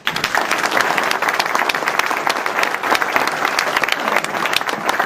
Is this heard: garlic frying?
no